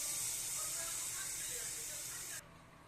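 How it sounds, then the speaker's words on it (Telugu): Tempering for pappucharu sizzles loudly in hot oil with cumin and curry leaves, a bright steady hiss close by that cuts off sharply near the end. "తాలింపు పెట్టేసుకుందాం."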